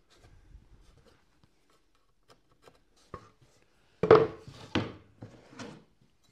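A pencil marks wood along a square during work on a wooden serving tray: faint light taps first, then a few louder, close scratchy strokes.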